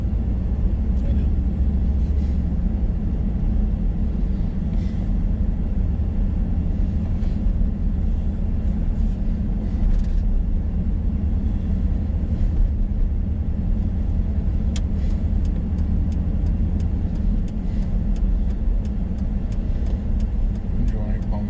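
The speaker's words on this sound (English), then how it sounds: "Thought there'd be this much traffic." Steady midday road traffic roars past in Minot, North Dakota, a continuous loud wash of car and truck engines and tyre rumble with no breaks.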